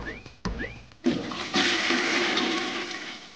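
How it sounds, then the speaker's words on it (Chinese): A toilet flushes in the video game Eggy Party, starting with short cartoonish chirps and clicks and then a loud rushing gurgle of water that swirls on for a couple of seconds. "那我们接下来要做的是冲马桶"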